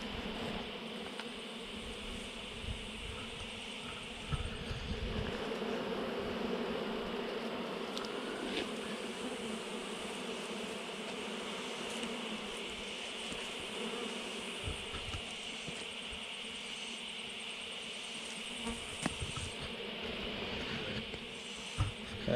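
Honey bees buzz continuously as they are cut out of a tree, a dense, steady swarm drone filling the whole stretch with small bumps and knocks from the work, and no one speaking.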